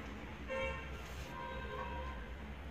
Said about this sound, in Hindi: हॉर्न थोड़े सुनाई दे रहे हैं